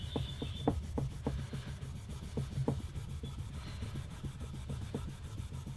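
A cloth or pad wipes grime off the frets of a Fender Stratocaster fingerboard, producing soft, quiet, rhythmic rubbing strokes that repeat steadily with no talking.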